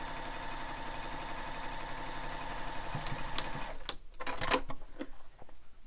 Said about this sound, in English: So top stitch all the way across.